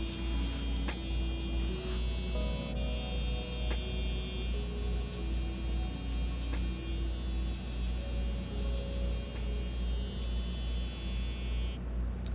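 An electric trimmer works over a beard with a continuous close buzzing hum, shifting pitch a little as it moves across the hair, with no talking heard.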